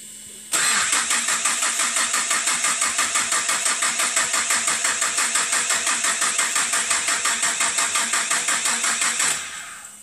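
An engine fires up for the first time after an EFI fuel injection installation. It catches at once and runs loud and close with a fast, steady pulsing beat for about nine seconds before cutting off abruptly. Nobody speaks.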